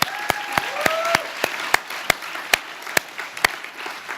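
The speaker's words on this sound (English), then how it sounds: "Do we want to do an applause?" Applause from an audience at a UC Davis event on strategy, design and brand transformation, a steady patter of many hands with a few louder, regularly spaced claps from someone nearby standing out above the crowd.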